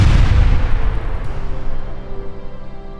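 A deep, booming blast rumbles at the start and slowly rolls away into a long, fading low-end tail.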